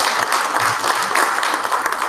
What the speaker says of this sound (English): So we clap at that